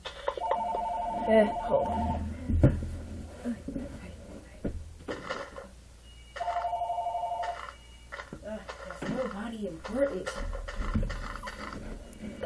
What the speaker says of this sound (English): I don't know why the phone keeps ringing.